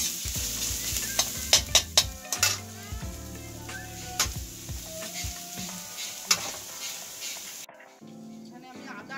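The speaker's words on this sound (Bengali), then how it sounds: "পেঁয়াজটা আমার লাল লাল করে একটু ভাজা হয়ে গেছে" Onions frying in a pan, crackling sizzle with several sharp clanks of a utensil against the pan, heard under ongoing talk in a home kitchen.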